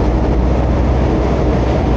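Car with a broken gearbox labouring uphill in traffic, held on the clutch: a steady, loud low rumble and drone with no speech over it.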